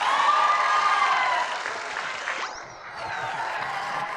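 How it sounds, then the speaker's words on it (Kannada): A group of boys claps together on a television show set, a steady wash of applause that thins out midway, with a brief whistling sweep cutting through the noise. "ಹುಡುಗರ ಚಪ್ಪಾಳೆ ಹೊಡಿರೋ"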